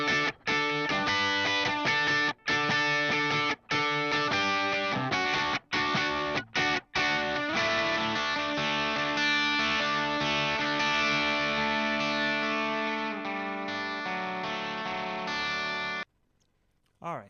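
Recorded lead electric guitar, heavily distorted and run through effects, plays a sustained, harmonically rich phrase with a few quick breaks early on, then rings out and stops near the end.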